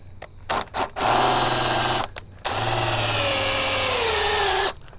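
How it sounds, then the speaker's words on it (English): A power drill running a screw extractor whirs in a few short bursts, then runs steadily for several seconds, a loud, close whine that shifts pitch under load before stopping. "We'll go ahead and give it a little bit of some drilling here."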